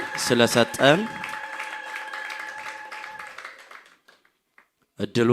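Church congregation at a Sunday service breaking into loud clapping and joyful ululation in praise, a dense burst of trilling voices and applause that fades into a quieter stretch before another short outburst.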